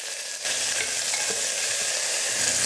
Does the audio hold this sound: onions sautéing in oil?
yes